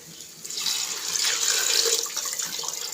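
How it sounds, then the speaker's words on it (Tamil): Two tumblers of water pour into a pan of tomato rice on the stove, a steady close splashing rush that swells and holds for a few seconds with no talking. "நான் ரெண்டு டம்ளர் தண்ணி ஊற்றிக்கிறேன்"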